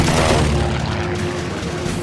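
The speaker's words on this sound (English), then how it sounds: "Smith answers with his .50 caliber machine guns." .50 caliber machine guns fire in a head-to-head aerial dogfight against a Zero over Guadalcanal. A dense, loud, continuous roar of rapid gunfire blends with engine noise, close and unrelenting with no talk.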